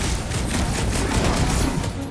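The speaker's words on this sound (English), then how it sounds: "Fireworks!" Fireworks go off in Marvel's Guardians of the Galaxy as a loud, dense volley of rapid crackling bursts that keeps going, then eases slightly at the end.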